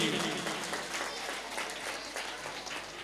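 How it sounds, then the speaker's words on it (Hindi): Audience applause at a Jain children's education camp closing ceremony, a soft continuous wash of clapping from a crowd at a distance. "तालियां संयम जी के लिए।"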